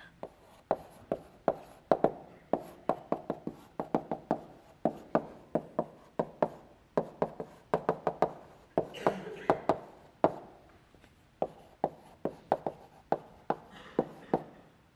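Chalk taps and scrapes against a board during a university algorithms lecture, a quick series of sharp, close knocks in uneven bursts with short pauses between phrases.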